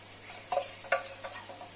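Sweet paprika being stirred into a pan over low heat, with a few soft scraping strokes over a faint background sizzle, close and quiet, no talking.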